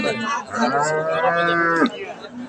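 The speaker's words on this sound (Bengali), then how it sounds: "সামনে দেখছেন ফ্রিজিয়ান জাতের দুধের গাভি" A Friesian dairy cow at a cattle market lets out one long, loud, close moo lasting over a second, with faint background noise of the market around it.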